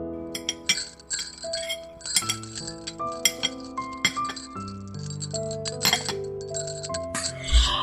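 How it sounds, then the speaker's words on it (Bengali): Teacups clink lightly as they are handed over, several bright glassy taps scattered over soft background music. "আড়ালে চোখের জল মুছে নিয়ে এসে কাপগুলো এগিয়ে দেয় প্রেরণা"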